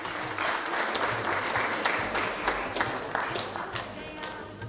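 Audience applause for a Member of Parliament at a festival gathering, a steady wash of many hands clapping, loud and sustained throughout, with crowd murmur underneath.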